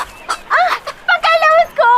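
Hen clucking in short, loud, close bursts with bright repeated calls over about two seconds, in a scene from a Hindi-dubbed action film.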